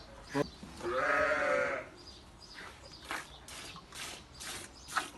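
A sheep bleats once, a wavering cry close by, followed by scattered clatter and faint voices in the background.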